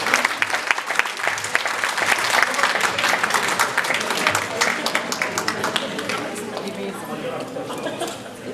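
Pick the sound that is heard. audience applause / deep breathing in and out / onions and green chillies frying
audience applause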